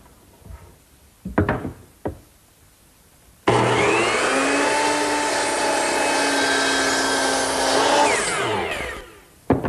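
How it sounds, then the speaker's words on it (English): A power miter saw makes an angled cut through wood in a home workshop, spinning up with a loud steady whine for about five seconds and then winding down, after a few light knocks while the piece is set. "that angled cut is best made at the power miter box"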